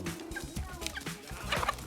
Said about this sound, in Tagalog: magpapakain po tayong manok